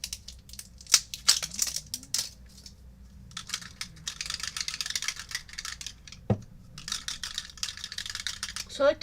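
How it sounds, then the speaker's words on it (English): A brushed pewter mica spray bottle rattles as it is shaken back and forth, bursts of rapid clattering with short pauses between, fairly close and quiet. "So I like to shake back and forth, get that mica off the bottom of the thing, but don't shake it up and down."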